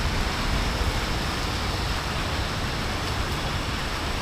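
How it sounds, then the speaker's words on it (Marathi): Heavy monsoon rain pours down in Mumbai as a dense, continuous hiss that stays even and close for the whole stretch, with no talking. "पहिल्यांदा एवढा जोरात पाऊस पडतोय बघा."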